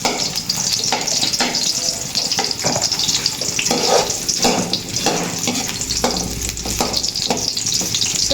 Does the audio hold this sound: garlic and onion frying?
yes